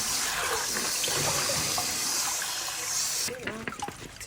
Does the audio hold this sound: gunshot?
no